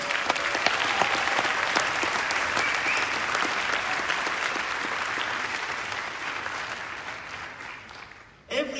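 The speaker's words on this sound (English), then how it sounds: "Big round of applause for our supporters." Sustained applause from an audience at a startup finalist announcement, honouring the event's supporters, a dense steady clapping that carries on for several seconds before cutting off near the end.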